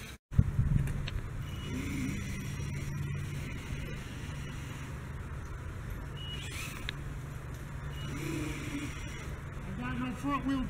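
A Force RC Outbreak 4x4 RC truck drives with a faint, steady motor whine, mostly under a person talking excitedly throughout.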